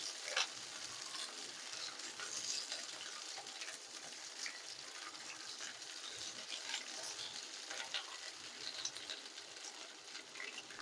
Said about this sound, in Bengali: ভেন্ডিটা আর আলুটা একসঙ্গে ভেজে নেব